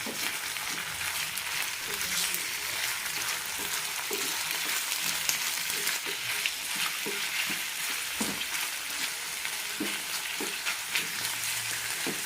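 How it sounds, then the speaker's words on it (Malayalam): Chicken pieces sizzle in a pan and are stirred again and again, making a steady frying crackle under repeated scraping and clacking of a spoon. "ഇനി ഇതിലേക്ക് ചിക്കൻ ഇടാം നന്നായി മിക്സ് ചെയ്യാം"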